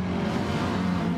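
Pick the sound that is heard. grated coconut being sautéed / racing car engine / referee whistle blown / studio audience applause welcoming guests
racing car engine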